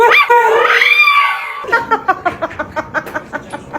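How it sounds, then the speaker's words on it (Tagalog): A dog makes high, wavering whines, then a quick run of evenly spaced sharp yips and barks, close and loud. "Tumatahol."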